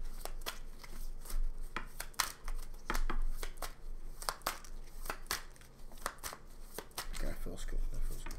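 A deck of tarot cards is shuffled close up in a rapid series of papery riffles and slaps that continue throughout.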